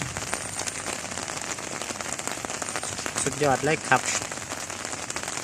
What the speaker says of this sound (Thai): น้ำโค้งกับบรรยากาศฝนตกเนาะ